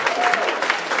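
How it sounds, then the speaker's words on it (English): Audience at a high school improv night claps for two performers, a brief burst of close, busy applause lasting about a second. "Give them a round of applause."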